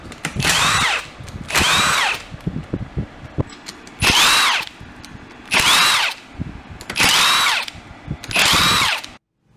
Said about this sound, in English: we'll grab the impact gun and act like we're on a NASCAR pit crew